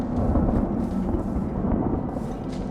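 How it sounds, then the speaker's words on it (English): Distant thunder rolls in the video game Dragon Age 2, a low, steady rumble that stays faint and unbroken. "I hear like thunder rumbling off in the distance."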